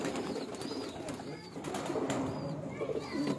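Teddy pigeons coo softly on a rooftop in Mirpur, a few low repeated calls set against a murmur of nearby conversation.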